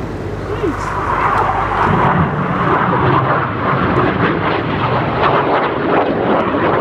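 A Red Arrows display jet passing overhead at the RIAT airshow, a loud, steady broadband engine roar with wind buffeting that holds across the whole stretch, with no talking heard.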